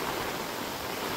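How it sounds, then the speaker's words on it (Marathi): Heavy rain and strong wind sweep over a garden flooded with water, making a dense, unbroken roar that stays loud and even throughout, with no one speaking. "हे बघा पाऊस बघा आणि वारा किती पडतोय बघा"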